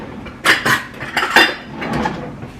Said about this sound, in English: I'm going to add a cup of